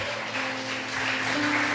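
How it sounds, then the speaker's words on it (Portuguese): Church congregation clapping together in worship, a steady dense wash of applause at moderate distance with a faint held tone underneath. "Você pode glorificar ao Senhor com as suas palmas?"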